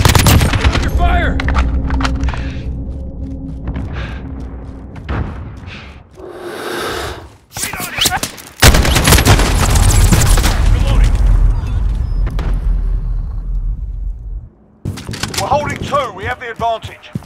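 Gunfire rattles through a Call of Duty Modern Warfare Domination match, with dense automatic bursts, sharp single shots and booming impacts layered loudly over game sounds and brief in-game voice callouts.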